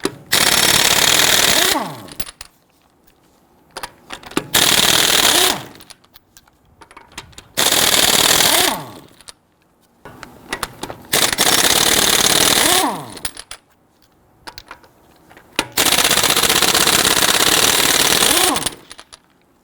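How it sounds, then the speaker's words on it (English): Bursts of a rattling socket tool, likely an impact wrench, loosening and removing 19mm lug nuts from a 2011-2019 Ford Explorer wheel, in five loud runs of a few seconds each separated by short quiet gaps. "Using a 19mm socket, loosen and remove the lug nuts."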